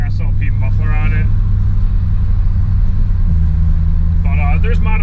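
A 2000 Pontiac Trans Am V8 with SLP airbox and SLP exhaust idles with a deep, steady rumble, loud and close, while people talk over it.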